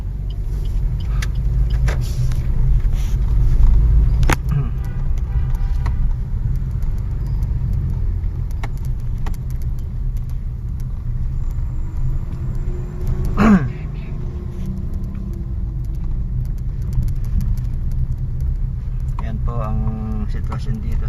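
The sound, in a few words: traffic on Mabini Street main road, Caloocan City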